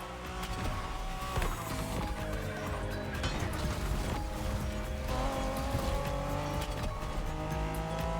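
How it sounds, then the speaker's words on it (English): A BMW Z4 M40i roadster is driven in The Crew Motorfest on PC, giving a dense, constant engine roar mixed with tire squeal that stays loud and busy throughout. "We have prepared a classic for you from a very famous German brand, the BMW Z4 M40i"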